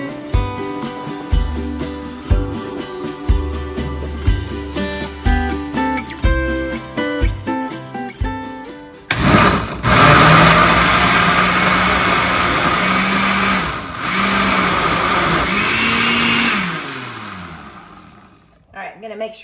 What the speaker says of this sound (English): All right, we're gonna blend it up,